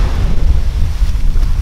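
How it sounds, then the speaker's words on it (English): Strong wind blasts across a beach on Maui, Hawaii, with crashing waves nearby, a loud, close, low rumbling buffet on the microphone that pulses irregularly through the whole short stretch. "It's pretty windy today."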